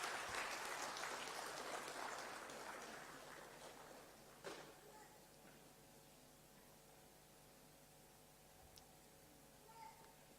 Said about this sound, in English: A big round of applause is expected.